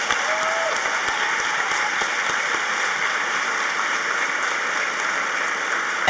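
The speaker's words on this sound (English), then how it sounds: "so please give them a round of applause." A high school graduation audience gives a sustained round of applause, dense even clapping from a large crowd that continues unbroken for several seconds.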